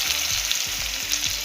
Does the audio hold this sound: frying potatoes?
yes